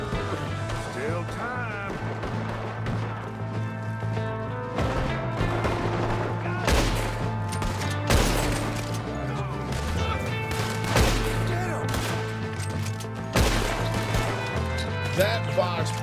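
Rapid gunfire in a video game shootout, bursts of sharp shots and cracks recurring over a continuous music bed, with several louder volleys standing out.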